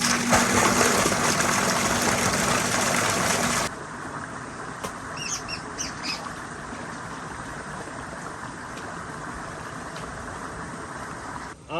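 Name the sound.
water flowing into a paddy field for irrigation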